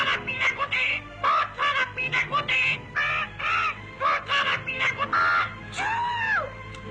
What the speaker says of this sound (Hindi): अरे मिट्टू, तुम क्या कह रहे हो? क्या बात है? आए, चुप हो जाओ बदतमीज तोते।